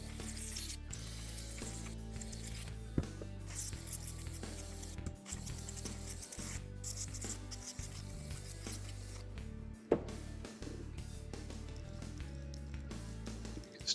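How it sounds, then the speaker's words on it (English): Brake cleaner sprayed onto a greasy travel trailer wheel bearing during a repack, a continuous close hiss broken by short gaps between bursts and an occasional sharp clack of handling. "Also spray this down with brake clean, try to break up some of that grease that's in there"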